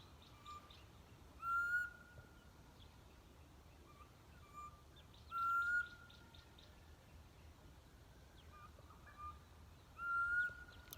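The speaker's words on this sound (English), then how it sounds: "Listen to that bird call." A distinctive bird calls from a blue gum tree on Pebblespring Farm, repeating a clear whistled phrase about every four seconds, faint and distant over a quiet outdoor background with softer chirps between.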